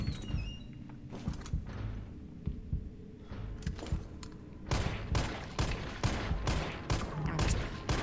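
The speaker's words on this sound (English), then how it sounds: "I'm just shooting from here." Gunfire in the Resident Evil 3 video game, a string of sharp shots in irregular bursts that grow denser toward the end, heard over a low rumbling game background.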